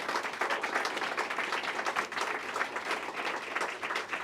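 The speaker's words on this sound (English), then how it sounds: "So we'll give her a round of applause for her leadership." An audience at a SNAP aid announcement applauds the New York governor with steady, dense clapping that holds at an even level throughout, fairly distant and without speech.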